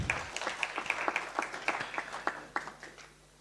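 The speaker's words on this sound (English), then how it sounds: "Let's give him a round of applause." A seminar audience applauds: a quiet patter of many hands clapping irregularly that gradually thins out and fades over a few seconds.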